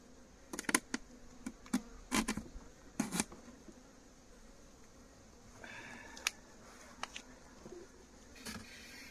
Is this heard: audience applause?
no